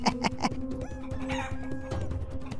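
Costly imported fighting chickens cluck and call loudly and close up, a few sharp squawks at the start and then a steady run of clucking with no talking.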